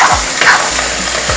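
Ayamase stew being stirred in a pot, a close, loud, steady sizzle and bubbling with faint scraping of the spoon.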